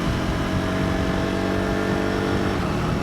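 A 2025 KTM 390 Adventure single-cylinder motorcycle engine holding around 5000 RPM on a road ride with a pillion, running slightly rough. It gives a continuous, loud, steady drone with wind noise throughout and no speech.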